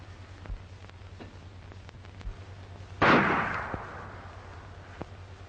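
A single sharp gunshot cracks out in a 1936 western film and decays with a short echo, set against a quiet, humming background with a few faint clicks.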